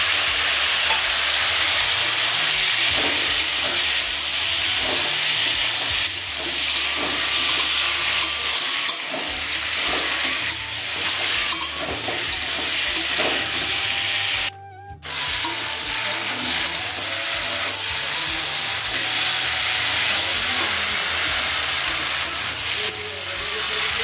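Bean seeds and chopped tomato frying in a pan with turmeric and ginger-garlic paste, a steady loud sizzle with stirring scrapes throughout, a brief break near the middle, no talking.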